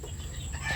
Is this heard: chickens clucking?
yes